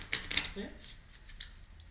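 Playing cards riffled and shuffled in two quick bursts of crisp, papery fluttering with soft taps, close up, followed by quieter handling.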